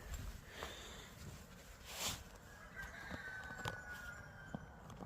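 A jungle fowl rooster crows faintly at a homestead, a thin, drawn-out call rising out of a dense, noisy outdoor background, with short sniffing or clucking bursts scattered around it.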